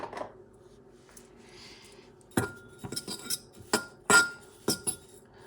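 Utensil clinking against a glass bowl while chili oil ingredients are mixed, a few sharp taps and scrapes scattered over several seconds, close and fairly quiet with no talking.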